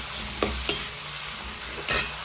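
Tomatoes and onions frying in a pan while cooking dal bati, with a steady low sizzle and a few soft stirring scrapes and clatters, close and moderately quiet, no talking.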